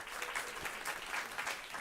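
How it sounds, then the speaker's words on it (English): Applause from a panel audience greeting a food and climate nonprofit founder, a steady patter of many hands at moderate loudness, a bit distant and without voices on top. "Give her a round of applause."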